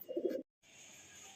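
A pair of male pigeons gives a brief, soft coo, followed by a sudden pause and then faint steady background hiss.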